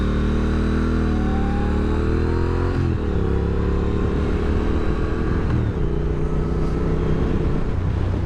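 A 2023 Triumph Speed Twin 1200 is ridden on the road, its engine droning loud and steady with gear changes shifting the pitch, and wind noise continuous throughout.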